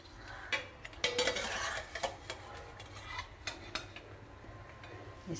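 Curdling milk is stirred gently in a pot with a spoon while making homemade mozzarella, giving soft scraping and light clinks against the metal at irregular intervals, faint and close.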